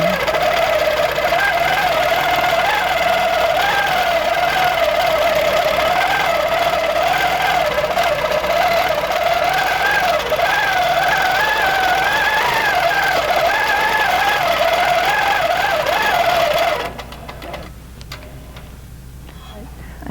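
An Amara 20 longarm quilting machine stitches a stipple pattern with a steady, continuous mechanical whir and rapid ticking, loud and close, before cutting off sharply near the end.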